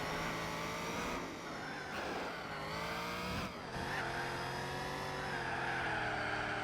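Racing car tires squeal and skid under a steady engine drone in Gran Turismo 4, the screech wavering and dipping as the car slides through corners, with no talking.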